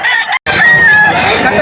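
A stag rooster at a pet market crows loudly and close by, one long sustained call after a brief first note.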